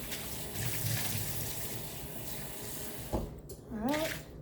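Tap water runs steadily into a sink while zucchini are washed beneath it, a close, continuous wash of splashing that a voice talks over throughout.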